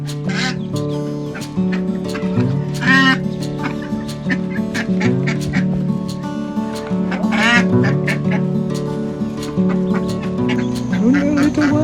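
Broody ducks quack repeatedly in loose bursts over a steady background of other fowl calls and sustained tones, fairly close and continuous throughout.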